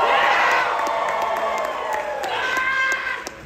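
A crowd cheers and whoops loudly with some clapping at a live late-night comedy show at Universal Studios Hollywood Halloween Horror Nights, a sustained roar that tapers slightly toward the end.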